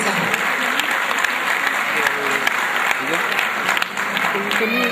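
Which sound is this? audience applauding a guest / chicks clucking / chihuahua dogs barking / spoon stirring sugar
audience applauding a guest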